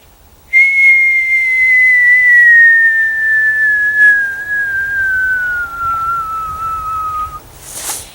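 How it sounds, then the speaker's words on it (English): A teacher's single loud, sustained whistle, blown outdoors, glides slowly downward in pitch for about seven seconds, heard alone in a quiet space. "this works better if you have a loud whistle"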